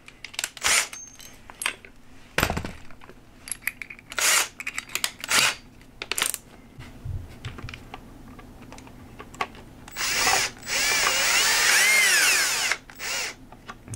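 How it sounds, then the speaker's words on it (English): Power drill driving self-tapping screws into a deer skull mount, heard as several short loud whirring bursts with pauses, ending in a longer sustained drilling run as a screw is driven home. "now we just gotta attach the self-tappers"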